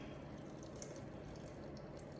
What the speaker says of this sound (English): let me get my water from the filter. So pour my water in.